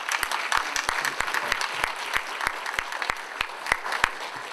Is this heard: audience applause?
yes